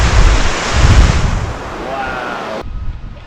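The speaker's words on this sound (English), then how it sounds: "This stream turned into a little river." A rain-swollen California stream rushes like a small river after wildfires and heavy rainfall, a loud, dense roar of churning water close to the microphone with wind buffeting, cutting off sharply near the end.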